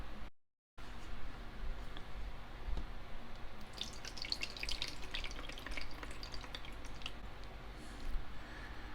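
Water pours and splashes into a humidifier tank, a soft continuous trickle with bubbling and dripping, quiet and close.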